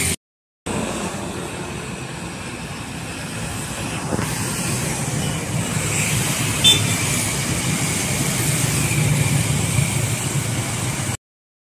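A bus engine hums steadily as buses pull out of a terminal, a continuous low drone that swells slightly over several seconds, with faint background noise and no talk.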